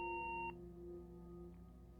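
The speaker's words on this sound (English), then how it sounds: "that was the sound of a landline phone if I've ever heard it" A landline phone in the Gone Home video game gives a single clear electronic tone lasting about half a second. It cuts off into a quiet low hum, with no talk.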